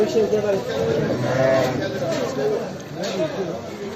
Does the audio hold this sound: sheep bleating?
yes